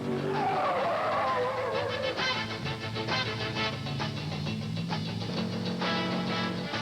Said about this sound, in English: Spinning a car out in reverse is the best test of stability there is.